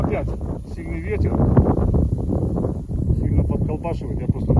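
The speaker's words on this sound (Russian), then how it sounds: "Сильный ветер" Strong wind buffets the microphone outdoors in a steady, loud rushing roar while someone talks over it.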